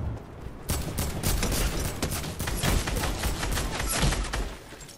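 Tommy gun firing in a video game, a rapid sustained burst of close, loud automatic shots in a fast even rhythm lasting several seconds before cutting off.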